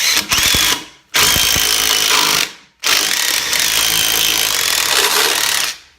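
A power drill whines loudly as it bores through maple wood, running in three long bursts separated by short pauses.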